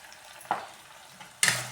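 An onion-tomato masala with turmeric gets stirred in a pan for a guar bean curry, with two quick scraping stirs over a soft sizzle. The second stir is louder and sharper than the first.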